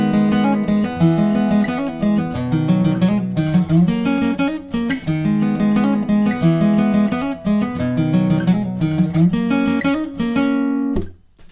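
An electric guitar plays a riff, a short phrase repeated over and over, loud and close with sharp plucked attacks, then the playing cuts off just before the end. There is no talking.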